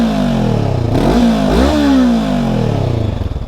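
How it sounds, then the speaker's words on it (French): Exhaust of a 2023 Honda CB500X motorcycle revving up and down close by, a steady loud engine drone with a couple of throttle blips rising and falling in pitch. "Je vous fais écouter le bruit du pot d'échappement."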